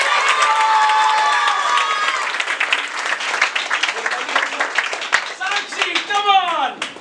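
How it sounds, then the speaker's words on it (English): Audience applause at a felicitation celebration: dense, loud clapping mixed with cheering and shouted voices, thinning into scattered claps, whoops and excited voices near the end. "Guys, round of applause."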